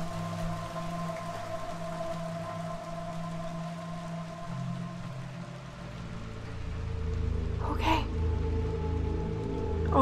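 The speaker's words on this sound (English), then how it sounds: "Come on, we gotta get out of the rain." Rain falling in the video game Little Nightmares 2, a steady soft hiss beneath a low ambient drone and music, swelling slightly toward the end.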